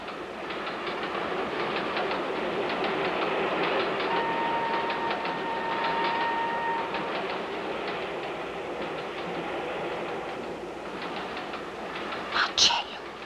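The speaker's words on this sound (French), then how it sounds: "je reconnais tous les trains au bruit qu'ils font" A train runs along the rails with a steady, continuous rumble and a rhythmic clickety-clack of wheels over track joints, heard from close by for several seconds and ending in a brief burst of brighter sharper noise.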